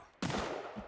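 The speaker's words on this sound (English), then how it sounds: "I just heard a gunshot." A single distant gunshot rings out in the survival video game Sons of the Forest, with a sudden loud crack and a rough, rumbling tail that lingers for most of a second.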